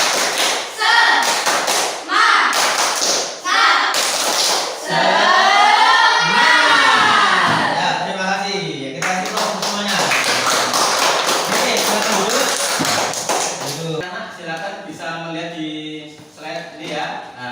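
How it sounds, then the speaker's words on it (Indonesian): A classroom of standing students performs a rhythmic spirit clap, with sharp grouped claps in a set pattern alternating with loud chanted voices and cheering, the clapping bursts near and punchy between the vocal sections. "Tepuk semangat."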